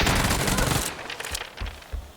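Uzi fire in the PUBG video game, a loud rapid burst of automatic shots at first, then scattered fainter shots and thumps as the exchange trails off.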